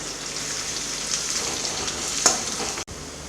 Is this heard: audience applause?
no